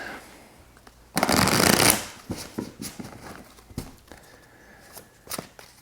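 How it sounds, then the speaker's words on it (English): A deck of tarot cards is shuffled close by, one loud riffle burst followed by a string of softer taps and flicks as the cards are squared and handled. "while I shuffle these cards"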